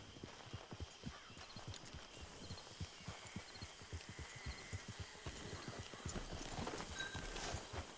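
Horse hooves in the Western video game Red Dead Online clip-clop in a steady, even walking rhythm over a low background hum, heard fairly close.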